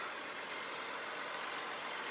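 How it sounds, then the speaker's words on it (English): A Proton X50 car engine idling, heard from inside the cabin as a steady, quiet, broadband hum and rumble with no talking. "of course you can hear the engine"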